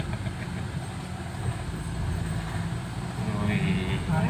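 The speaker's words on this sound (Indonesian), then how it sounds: "Suara mesinnya jadi tambah halus, getarannya berkurang." A 2010 Nissan Livina automatic runs after engine tuning, giving a steady, low, fairly smooth rumble close by that swells slightly toward the end.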